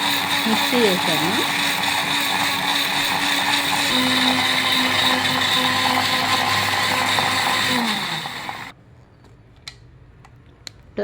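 Tomato pieces churn in a mixer grinder jar as the motor roars loudly and evenly, then winds down and stops, leaving a few sharp clicks from the jar.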